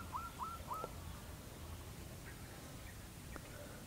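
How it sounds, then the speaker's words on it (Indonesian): Three quick, high rising calls in a row from a blue-eared kingfisher in a mangrove forest, then a couple of fainter calls, over a steady outdoor hiss. "Ini barusan tadi terekam burung kingfisher yang jenis alkido meninting"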